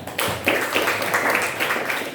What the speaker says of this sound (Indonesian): tepuk tangan Mas Sofyan